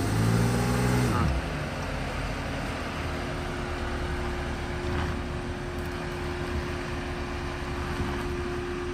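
Porsche Cayenne engine labouring up a steep off-road slope, a steady low drone with a loud swelling start that settles into a continuous hum, with a voice briefly heard over it.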